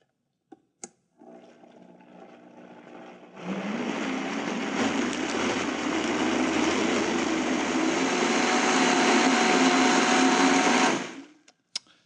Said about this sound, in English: Okay, let's go ahead and puree this.